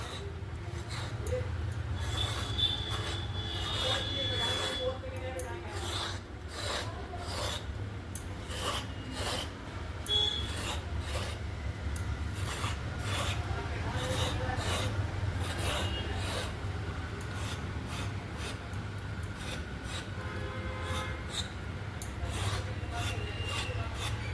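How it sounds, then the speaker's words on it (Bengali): Snake gourd skin being scraped with a blade in a kitchen, a steady run of short rasping strokes repeated close up throughout, with a low background hum. "এবারে এরকমভাবে আমি চেঁচে নিচ্ছি গাটা।"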